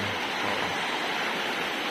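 River water flows steadily near Coto Mines, a broad, constant rushing wash close by while the river is crossed, with no voices.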